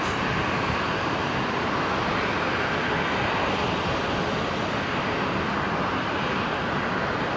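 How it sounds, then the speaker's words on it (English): A Qantas Dash 8 Q400 turboprop taxis across the apron toward the hangar at Brisbane International Airport, a steady, loud, broadband engine roar that holds constant throughout, with no talking. "One of the Dash 8 Q400s heading over to the hangar by the looks of it, the Qantas hangar"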